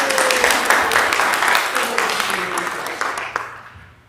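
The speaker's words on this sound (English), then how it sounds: "So can we just give them a round of applause?" An audience in a church applauds in a short burst of clapping, with voices mixed in over it, and the sound fades out over about four seconds.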